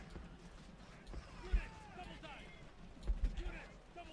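Horse archers gallop in the strategy game Rome: Total War, their hooves landing as muffled thuds in uneven bursts under a blurred mix of battlefield voices.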